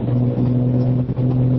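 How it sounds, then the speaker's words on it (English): Honda Goldwing motorcycle with aftermarket exhaust, a steady low engine drone while riding, close and continuous with a slight dip near the end. "they sound real good if you like the sound of aftermarket exhaust"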